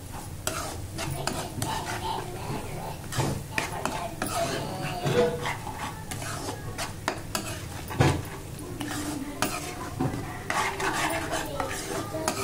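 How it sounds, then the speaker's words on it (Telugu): Turmeric, chilli powder and salt being stirred into onion masala gravy in a pan, a steady run of scraping and clinking from the spoon against metal with a faint sizzle underneath, close and continuous. "పసుపు, స్పైస్కి తగ్గట్టు కారం, అలాగే ఉప్పు వేసుకొని అంతా కలిసేలా కలుపుకుందాం."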